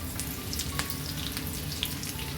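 Dried red chillies sizzle and crackle steadily in hot oil in a pan, a dense, continuous frying hiss with scattered sharper pops, close and alone without talk.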